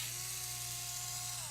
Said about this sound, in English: as I'm just removing the 3 or 4 screws that I put together here